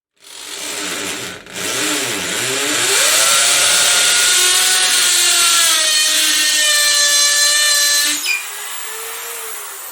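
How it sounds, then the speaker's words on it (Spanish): A rotary hammer whines loudly and steadily, its pitch rising and wavering as it bores into a tiled wall, stopping abruptly near the end. "ya podemos utilizar el roto martillo"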